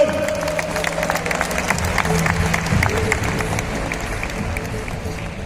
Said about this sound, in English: round of applause for Manoj Bajpayee, ladies and gentlemen.